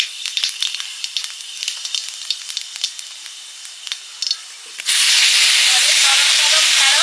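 Five-spice panch phoron hits hot oil for a tamarind fish curry, the fish already fried. Light clinks and faint crackles come first, then a sudden loud, steady sizzle that holds to the end.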